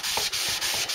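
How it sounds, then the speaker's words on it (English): A foam sanding block rubs back and forth across a brass clock dial being refinished, giving a steady close, loud abrasive hiss in repeated strokes with brief pauses between passes. "I'm here using a proprietary sanding block, a foam sanding block,"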